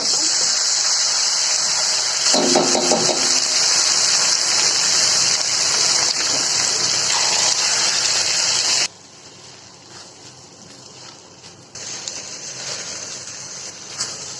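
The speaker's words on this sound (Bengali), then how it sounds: "ভেজে আমি চালটা পানি দিয়ে নিচ্ছি, দিয়ে দিব" Water poured into rice that was first fried in ghee for shahi malai zarda, a steady rushing hiss for several seconds that then drops to a quieter bubbling simmer.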